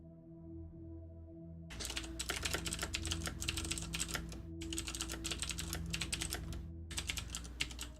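Rapid typing on a computer keyboard, close and steady clatter in two long bursts with a short pause between, then a shorter burst, over a low electrical hum and no speech.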